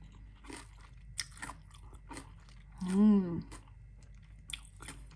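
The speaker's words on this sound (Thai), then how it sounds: "ฟังเสียงความกรอบของมะละกอนะคะ กรอบจริงๆ นะคะนี่" Crisp shredded green papaya salad with chili is chewed up close in a quiet room, giving short crunchy bites spread across the clip, with one louder, longer burst in the middle.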